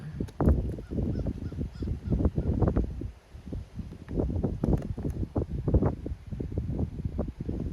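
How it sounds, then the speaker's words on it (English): Wind buffets the microphone in heavy, uneven low rumbles and gusts, with brief lulls, continuing throughout. "There's no way to keep it from being windy in my mobile studio."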